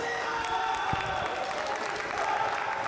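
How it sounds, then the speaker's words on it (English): A crowd at a men's volleyball semi-final applauds and cheers in a steady, continuous burst of clapping and voices, fairly loud and filling the whole moment. "The crowd is loving this right now."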